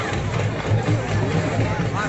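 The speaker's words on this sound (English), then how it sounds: "See the crowd." Dense crowd hubbub at a Dussehra festival mela in Amsterdam, many overlapping voices in a steady, loud babble with no clear pauses.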